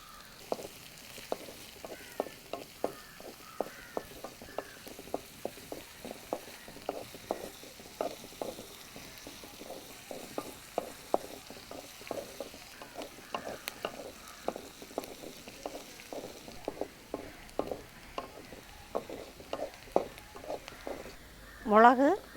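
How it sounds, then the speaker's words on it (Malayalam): Mustard seeds and onion sautéing in hot oil for a tomato thoran, a steady close sizzle with many quick crackling pops of the seeds spattering, ending in a brief louder scrape near the end. "അടുത്ത് കടുക്, അടുത്ത് സവാള ഇട്ട് വശക്കണം."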